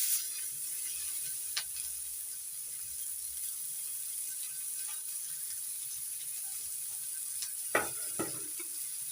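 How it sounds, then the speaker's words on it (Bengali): Chopped onion fries in oil, giving a steady soft sizzle underneath a few scattered clinks and scrapes of a spoon against the pan, with no one talking. "পেঁয়াজ হালকা করে ভেজে নেব"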